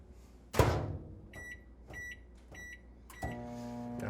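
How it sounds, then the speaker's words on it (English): Microwave oven heating a barely damp sponge for about 20 seconds: a loud door clunk, then a steady running hum with a few short electronic beeps spaced through it and another thump near the end. "I'm going to put it in the microwave for 20 seconds"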